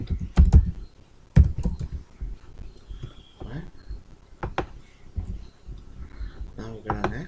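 Typing an email subject on a computer keyboard, close irregular bursts of key clicks with pauses and a few louder taps, while a person talks over it at times.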